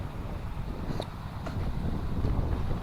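Strong wind buffets the microphone while fishing and casting outdoors, a steady low rumble with no clear break, and a few faint clicks and knocks on top.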